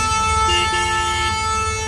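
Vehicle horns sound on a busy Delhi street in a posh area near Connaught Place, steady tonal honking layered over a constant rumble of road traffic, held continuously with no break.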